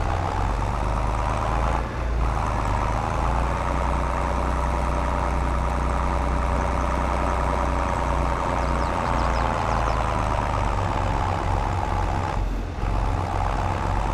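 A Fiat tractor engine drones continuously in Farm Sim 22, a steady low idling rumble with an even, unbroken loudness and two brief dips.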